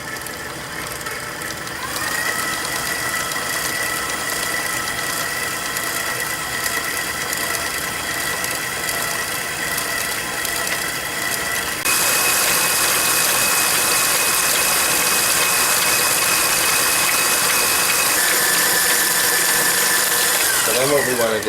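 An electric mixer runs slowly through chocolate cake batter, a continuous loud whirring hum that steps up in pitch partway through and carries on steadily to the end.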